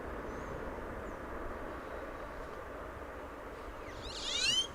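A distant airliner taxiing at DFW Airport, a steady, faint engine rumble and hiss that holds level throughout, with a brief higher whine rising near the end.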